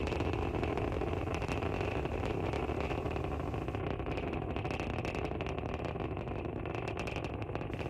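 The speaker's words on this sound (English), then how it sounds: "We can hear the characteristic rumble as the first stage heads into space." A SpaceX Falcon 9 first stage roars during launch, carrying the SpainSat NG I satellite from Florida. The rumble is continuous and crackling, dense and steady throughout.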